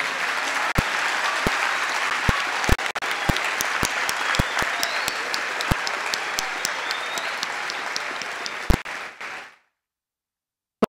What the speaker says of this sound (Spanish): pido a los asistentes un fuerte aplauso